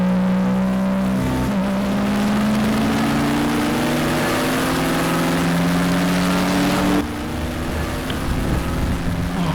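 Race car engine at an SCCA event at Daytona, droning steadily up close behind a pace car with a slowly rising whine, then easing off near the end.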